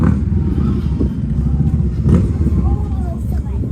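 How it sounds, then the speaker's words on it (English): Motorbike engine rumbling nearby with uneven low revving and some clatter, moderately loud, with people talking over it. "Yeah, his motorbike is loud."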